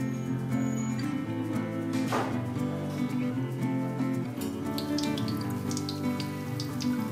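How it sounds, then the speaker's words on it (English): Sattu-stuffed makunis, a dough snack, fry slowly in oil over medium heat with a steady, soft crackling sizzle and scattered light pops, continuous throughout over a low tonal background. "Now on a medium heat, just fry the makunis slowly."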